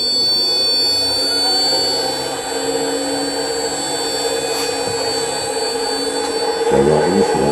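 An engine driving a water vortex egg demonstration runs steadily with a loud whirring, rushing hum and high whine, continuous and close, shifting slightly in pitch near the end.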